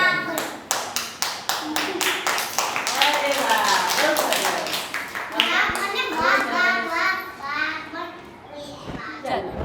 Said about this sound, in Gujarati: તમે તાળી વગાડતા આવે છે ને